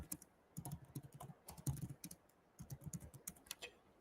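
Rapid keystrokes clatter on a computer keyboard in irregular bursts with short pauses, close and fairly quiet, with no voices.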